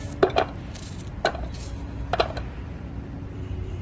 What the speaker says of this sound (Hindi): चॉपर में जो है बारीक करके हम प्याज इस तरह से काट के डाल देंगे